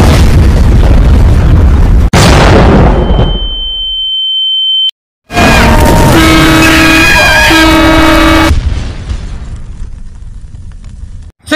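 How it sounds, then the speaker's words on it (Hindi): A bomb blast: a loud, booming explosion, then a long rumbling decay with a high ringing tone, then another burst of crashing, chaotic noise. "कल जो शहर में धमाका हुआ"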